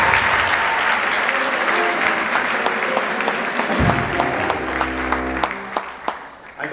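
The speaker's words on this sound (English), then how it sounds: "Let's give them a round of applause." Audience applauding the West Shore Jazz Band at a school band concert, a full, close burst of clapping that gradually thins out, with a few low musical tones sounding under it.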